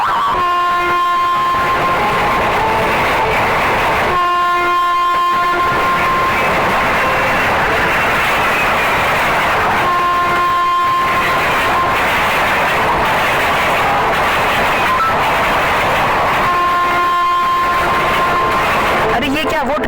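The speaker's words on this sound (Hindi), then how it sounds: "वो ट्रेन तो यहाँ रुकी ही नहीं" A cartoon train passes through a station without stopping, a continuous rail rumble under talking voices, punctuated by repeated horn-like blasts at regular intervals.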